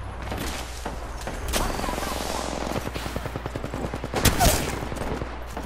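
Rapid automatic gunfire in Apex Legends, a video game: dense, rattling bursts of shots, close and loud, building to a heavier volley near the end, with faint talk underneath.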